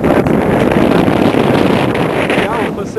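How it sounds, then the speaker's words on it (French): Strong wind at Canal Rock on the coast of South Western Australia roars and buffets the microphone in a steady, loud, close rush, holding for the whole stretch. "Alors là il doit y avoir du vent"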